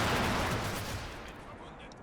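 An artillery shell lands in the Combat Mission wargame, giving one loud burst of impact noise at the start that decays into a fading rumble over about two seconds.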